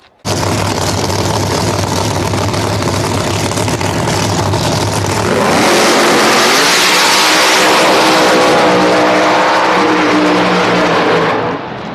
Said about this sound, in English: Great drag race there, but Nate Saylor gets to the finish line first